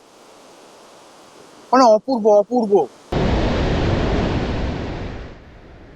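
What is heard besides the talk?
ocean waves roaring on a beach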